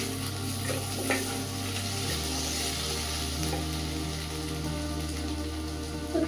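Chicken pieces frying and being stirred in a pan, a continuous close sizzle with scraping stirs over a steady low hum, no talking.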